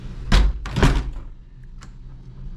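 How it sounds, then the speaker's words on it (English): Hotel room door in the French Quarter of New Orleans swings shut with two close, heavy thuds and a brief rattle, followed by quieter room sounds. "Shut this door."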